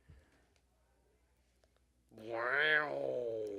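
A cat lets out a single drawn-out, rising-then-falling meow near the end, fairly close and clear after a stretch of near silence with faint clicks.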